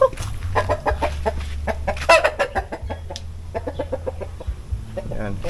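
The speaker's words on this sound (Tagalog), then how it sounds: "So tingnan niyo yung isang manok dito na lumalapit, no?" A rooster, a fine fighting-type bird tethered in place, clucks repeatedly in short, choppy bursts close by, with a steady low hum running beneath.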